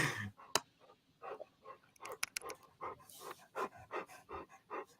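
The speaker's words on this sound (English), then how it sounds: "kill the dog noise." A dog pants in quick, rhythmic bursts of breath, close by but faint, repeating steadily throughout.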